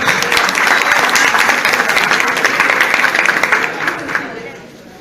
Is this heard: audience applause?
yes